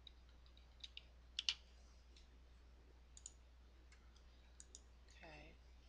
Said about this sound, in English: And I'm just using my arrow keys here.